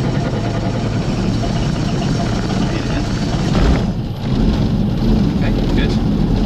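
Robinson R44 helicopter piston engine running loud and close after start, a steady broadband drone with a brief dip in the middle as throttle is adjusted, a voice talking over it.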